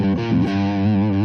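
Electric guitar played through a Boss overdrive/distortion pedal with the gain boost off, a single sustained distorted chord ringing out loud and thick with strong harmonics, alone without any voice.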